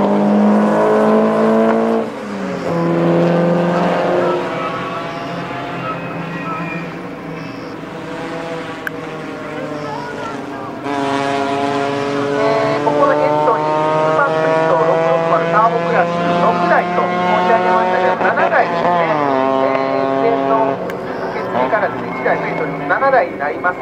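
Race cars run laps of Okayama circuit in a Super Sprint class time attack, their engines droning and shifting pitch loudly and continuously as they pass, with a commentator talking over the whole stretch.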